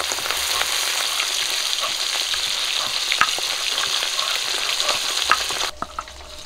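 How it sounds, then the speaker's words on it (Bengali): Pabda fish frying in a pan after all the pieces are flipped together, giving a steady, close, loud sizzle with small crackles throughout that drops off sharply near the end. "সবগুলো মাছ একসঙ্গে উল্টে দিলাম।"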